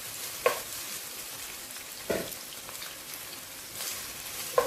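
Onions added to a pan of hot chili for spiced sautéed potatoes, a low steady sizzle with three sharp bursts of crackling as they go in and get stirred, close by and without speech.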